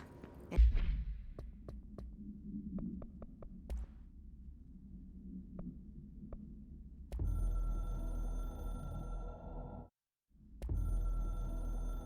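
Hotline telephone in the game Control ringing in steady electronic bursts that start partway through, loud and close, after quieter ambient tapping and hum, with one brief silent gap between rings.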